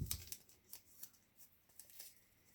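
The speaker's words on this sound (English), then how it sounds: "I'll take some tape, and again, I'll rip it down the middle" Tape ripped by hand down the middle while wrapping a wire armature for an air dry clay Halloween figure, heard as a series of short, close, crisp tearing bursts in a quiet room.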